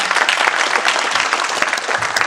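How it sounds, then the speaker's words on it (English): Dense, steady audience applause at a Sanford Chamber State of the Cities event, filling the clip at close range with no voices standing out. "a round of applause as we introduce these folks"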